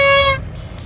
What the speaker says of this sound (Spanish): ¡Esa es la bocina!